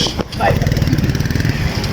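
A motorcycle arrives close by on a road near Islamabad, its engine running with a steady, throbbing drone that holds loud and continuous throughout.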